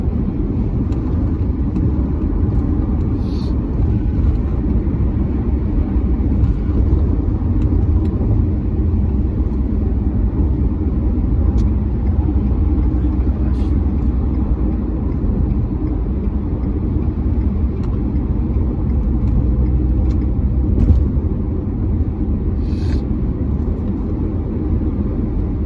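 A car drives on a road in thickening traffic with a steady, loud low engine and road rumble throughout, plus faint higher ticks here and there.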